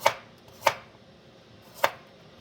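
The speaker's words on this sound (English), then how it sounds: "Cut my carrots in slices." A knife slicing carrots on a cutting board for a Jamaican-style Sunday dinner, three crisp, close chops, the first two about half a second apart and the third after a longer pause.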